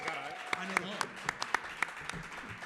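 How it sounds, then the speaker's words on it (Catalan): Scattered claps from a studio audience greet a journalist on a Catalan talk show, about a dozen distinct hits spaced irregularly under ongoing conversation. "Un fort aplaudiment."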